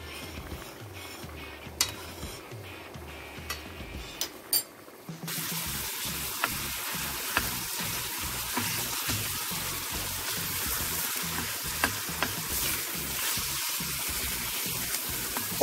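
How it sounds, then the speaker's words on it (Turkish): Minced meat frying with onions in a pan, a quiet start with a few clinks, then a sudden steady sizzle and crackle with scattered utensil taps, close and alone. "Onun yarısını soğanlarımla birlikte kavuracağım tekrardan."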